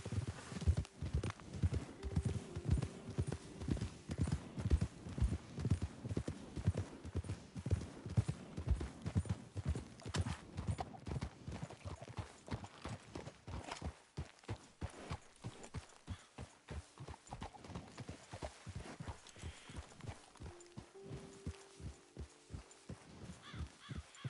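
Horse hooves clip-clop steadily along a trail in Red Dead Redemption, a loud regular rhythm of several horses walking that slows and thins out toward the end, with a brief snort and faint background ambience.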